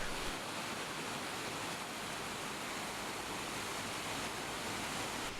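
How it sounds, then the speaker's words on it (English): The river Argent rushes over and under a tumble of large granite rocks at the Mill of Chaos in Huelgoat, a steady, dense roar of churning water with no pauses. "the river Argent rushes over and under a tumble of granite rocks"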